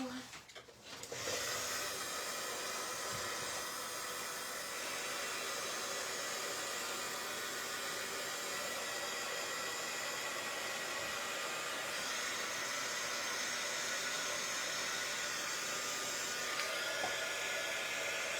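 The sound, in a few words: drying craft paint, likely with a hair dryer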